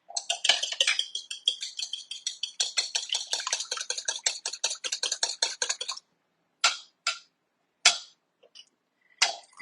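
Cookie batter mixed by hand in a bowl: quick, rhythmic scraping and tapping strokes for several seconds, then a few separate, sharper knocks with pauses between.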